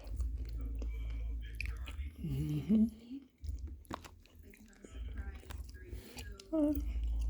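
Close, soft chewing of a mouthful of Sapporo Ichiban Japanese noodles with pork and shrimp, moist squishy bites and mouth noises with a few murmured sounds, at low volume.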